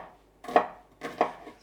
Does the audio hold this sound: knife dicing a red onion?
yes